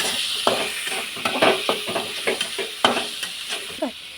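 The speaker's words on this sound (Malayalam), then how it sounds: "നമുക്കിതൊക്കെ പാടെ മിക്സ് ചെയ്യാം." Crushed shallots, ginger paste, curry leaves and crushed green chillies being stirred together in a pan for a prawn dish, with repeated close scraping and clattering strokes over a steady soft sizzle, no voices.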